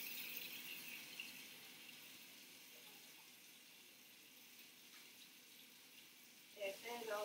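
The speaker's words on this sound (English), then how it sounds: "I'm going to get some warm water" Warm water runs from a tap as a steady, soft hiss for several seconds, fairly close, with a few faint clinks near the end.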